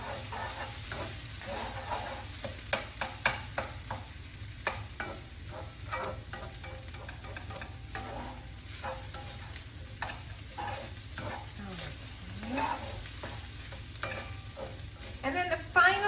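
Mexican fried rice made from leftovers with freshly squeezed lime juice is stirred in a hot pan. Repeated scraping and clinking strokes ride over a soft, continuous sizzle, and several sharper utensil knocks come near the end.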